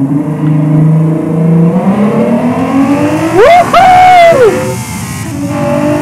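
A tank in the video game World of Tanks drifts along rails, its engine tone rising and whining in a loud swooping sweep that climbs and falls, with a low rumble beneath.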